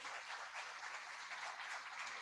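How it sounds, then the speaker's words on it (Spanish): An audience at a Spanish-language round-table colloquium on municipal government applauds a panel speaker, a faint, steady wash of clapping with no voices over it. "a la doctora Aliet Becomo Alerm, a quien brindamos un fuerte aplauso."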